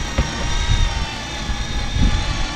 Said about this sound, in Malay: Jet.